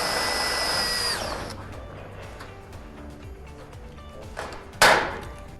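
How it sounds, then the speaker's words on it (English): A power drill whines steadily for about a second while drilling steel shed flashing, then stops; a sharp metallic tap or clatter follows near the end. "we need to drill and rivet that onto the mullion first."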